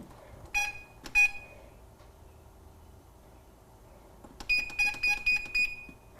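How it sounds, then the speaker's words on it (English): A kitchen timer set for cooking sounds two separate short beeps, then after a pause a rapid run of about six beeps, clear and close against a quiet room. "so let's set the timer"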